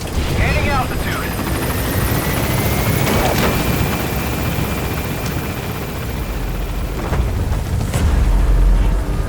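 Helicopter climbing in Metal Gear Solid V, a loud continuous rotor thrum and whine with radio voices talking over it and deep booms near the end.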